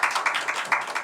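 Brief, light clapping from a congregation at a Sunday church service, quick irregular claps with no talking.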